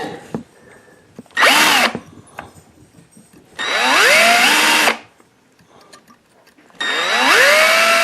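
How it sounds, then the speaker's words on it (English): A power drill whirs in three loud bursts, its pitch rising as the motor spins up, with quiet handling noises in the pauses. "So then when I do it, drill into it."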